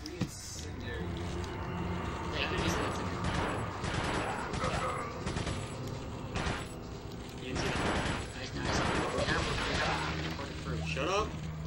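Gunfire strikes a wooden shield in the video game Resident Evil 4, dense bursts of shots and impacts rattling steadily through the scene alongside game music and effects, with people talking over much of it.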